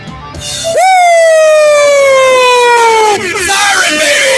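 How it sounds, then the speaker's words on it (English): Siren sound effect played on a radio show, a loud wailing tone that swoops up then slowly slides down over about three seconds, with a brief restart and background voices around it. "Siren, baby."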